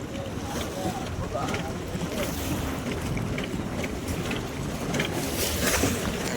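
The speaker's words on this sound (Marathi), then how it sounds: "तर मस्त पैकी गाईज आता बोट काढतो इथून बघा. इथून बोट काढायला घेतोय." A fishing boat is pushed off and taken out onto open water, with steady water and hull noise, wind buffeting the microphone and faint voices in the background.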